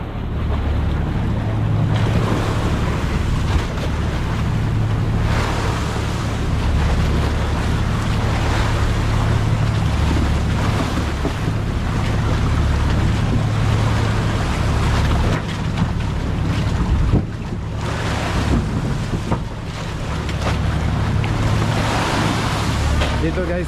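Sea waves slap and wash around a boat out on the water amid gusty wind buffeting the microphone, a loud continuous rough churn with a low motor-like rumble beneath.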